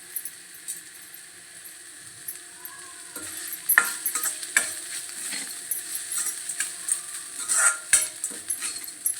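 Freshly grated coconut goes into a pan for coconut rice and fries with a quiet hiss, accompanied by irregular scraping and clicking stirs that grow busier and louder partway through.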